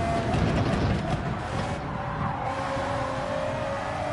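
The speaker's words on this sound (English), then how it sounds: "Is it me or did my engine like change pitch?" A racing-game car engine in a Nation's Cup World Series round holds a steady droning note with a slight shift in pitch partway through, while a few faint tyre or skid noises come and go early on. No one speaks.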